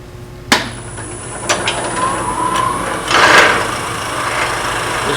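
A small center drill boring into very dry curly oak, heard as a sharp tap at the start followed by steady whirring and cutting noise, with a louder grinding swell midway through and no talk.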